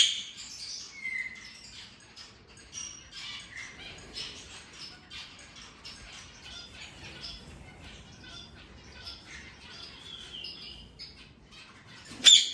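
Many birds chirp and tweet across a set of 19 aviaries, with overlapping high calls and occasional squawks continuing steadily at moderate volume; a sharper burst comes near the end.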